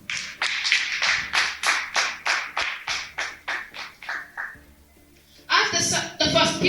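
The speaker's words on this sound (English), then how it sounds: "Give them a round of applause." A small audience at a parliamentary debate gives a short round of applause. Sparse, rhythmic claps come in quick succession, fade out, then a louder burst of clapping follows.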